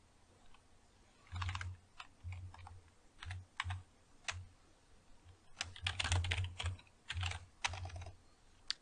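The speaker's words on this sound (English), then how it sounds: "If I could type, it'd be a lot easier." Typing on a computer keyboard comes in irregular bursts of close, crisp key clicks with short pauses between flurries, quiet and alone without talk.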